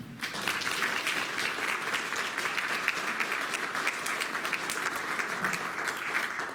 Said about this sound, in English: And give them an applause.